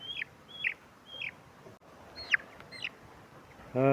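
Small chicks peep in a handful of thin, rising-and-falling chirps spaced about half a second apart, close by, before a sudden louder burst of noise cuts in at the end.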